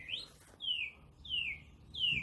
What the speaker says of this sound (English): a beautiful chirping bird coming from somewhere, I can't see it, but I can hear it